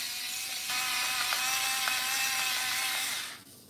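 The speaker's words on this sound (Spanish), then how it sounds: "La pimienta me encanta recién molida" A pepper mill grinds fresh black pepper over eggs in a bowl, giving a close, continuous scraping grind with faint rhythmic clicks lasting about three seconds.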